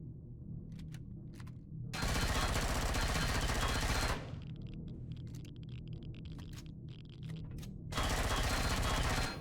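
Shotgun fire in the space survival game Empyrion Galactic Survival, loud sustained bursts of blasts with a heavy low rumble, broken by a quieter stretch of scattered shots and crackling.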